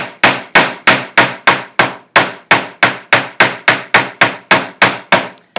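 A hammer strikes a metal sheet to texture it, sharp loud blows landing in an even, steady rhythm about three per second, close and unaccompanied by talk.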